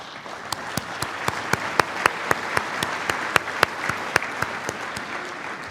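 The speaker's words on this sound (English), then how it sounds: "The unsolicited applause tells you how much he means to this sport" Audience at an NHRA drag racing awards ceremony clapping, a loud regular beat of distinct claps cutting through a softer spread of crowd applause, continuing evenly for several seconds.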